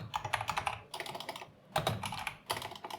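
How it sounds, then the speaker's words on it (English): Corsair K100 keyboard being typed on in bursts of quick clacking keystrokes, close and clear, with short pauses between runs while someone writes Go code. "I'm using the Corsair K100, but I also use my Razer keyboard"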